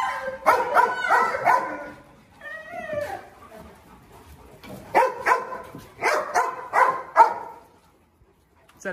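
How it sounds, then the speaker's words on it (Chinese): A Canary Mastiff dog barks in loud, repeated bursts close by, with a whimpering yip in between and a second cluster of barks after a short lull. "小狗怎么跑那里边去了？"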